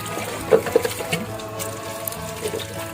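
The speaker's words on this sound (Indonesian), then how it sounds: "Kita cuci dulu menggunakan air mengalir supaya higienis" Running tap water rinsing a cut aquarium glass panel, a close, moderately loud trickle and splash with a few brief clinks of the glass and no voices.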